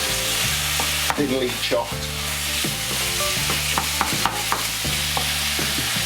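Thinly chopped beef for beef in black bean sauce is stir-fried, a loud steady sizzle broken by repeated scraping and clattering stirs, with background music running underneath.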